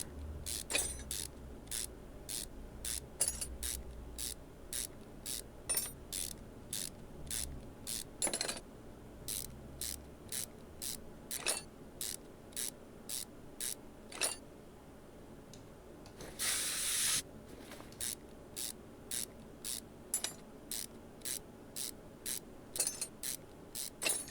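In Car Mechanic Simulator 2021, an engine cover comes off a '96 Chevrolet Camaro with a steady run of crisp mechanical clicks and ratchet-like ticks. A short airy hiss bursts out midway, and no one speaks.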